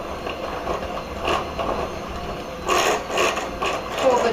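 An electric mixer beats pizzelle cookie batter after the last of the flour goes in, making a continuous rattling, whirring churn with rhythmic scraping surges.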